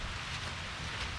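Rain falling steadily during a storm in an outdoor turtle and tortoise enclosure, a dense close hiss of drops on the ground with no talking.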